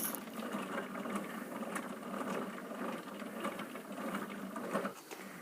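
Single-treadle sewing machine running at a steady pace, a soft continuous mechanical whir and rapid light clatter, fairly quiet and close, with no talk.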